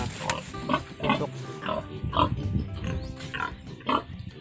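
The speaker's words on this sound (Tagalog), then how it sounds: "Alpasa namin ng native na baboy." A native pig on a small hillside farm grunts and squeals in a rapid series of short nasal calls, close and fairly loud, with brief pauses between bursts.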